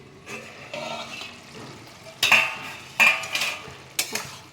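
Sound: lid being taken off a cooking pot

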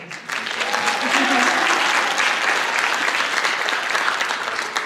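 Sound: concert audience applause for flute soloist

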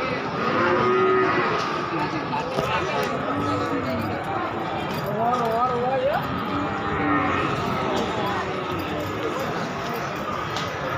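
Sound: cattle mooing at a cattle market

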